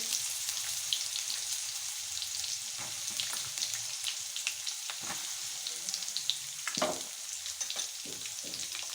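Curry leaves, ginger-chili paste and green peas frying in a pan for samosa filling, a steady soft sizzle with scattered pops and occasional scraping stirs, close and fairly quiet.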